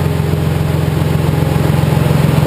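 Car engine on a dyno during a pull with an HPF Stage 4 setup, a loud, steady, pulsing engine drone with a rapid, even rhythm and no voices.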